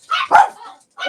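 A few loud, close dog barks, two rapid yips then a pause before another bark.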